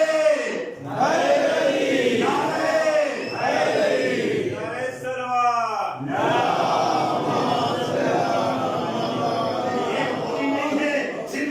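A large crowd of mourners at a Shia majlis gathering joins in chanting religious slogans together, with loud, sustained voices in unison that swell and fall in rhythmic waves for several seconds.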